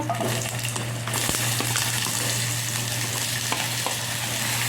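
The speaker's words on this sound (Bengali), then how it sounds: "তারপর আমি ওর মধ্যে আস্তে আস্তে পেঁয়াজ কুচো," Chopped onion frying in a little oil in a wok for chicken momo filling, a steady close sizzle with a fresh burst of crackle after about a second, plus faint scraping.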